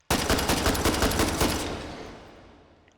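An AKM assault rifle in the virtual reality game H3VR fires a fast automatic burst of about a dozen loud close shots, then a long echoing tail fades out with no talking.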